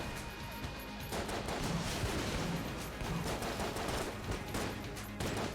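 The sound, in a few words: shotgun firing in Enter the Gungeon video game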